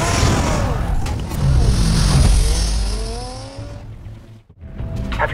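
Batmobile from the Telltale Batman video game driving at speed, a loud engine roar with tire squeal and skidding, rising and falling over several seconds, with a brief drop near the end.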